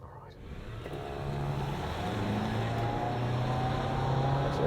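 A 2024 Toyota RAV4 hybrid, front-wheel drive with traction control off, accelerating hard from standstill, engine drone building from quiet to a loud sustained rising roar with tyre and road noise inside the cabin.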